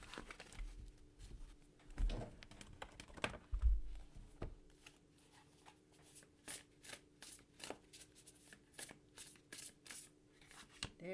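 Oracle cards being shuffled by hand in a run of quick, crisp riffling bursts, close and fairly quiet, with no talking.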